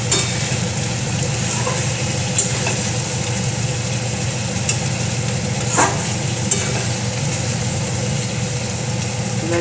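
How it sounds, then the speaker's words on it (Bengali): Chicken kosha with a spoonful of garam masala being stirred in a pan, a steady low sizzle with occasional soft scrapes and clinks of the spoon against the pan, continuous and fairly close. "1 চামচ গরম মশলার গুঁড়ো দিলাম, দিয়ে এটাকে নেড়ে নেব।"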